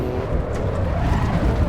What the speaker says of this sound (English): The tyre noises are ridiculously, ridiculously loud.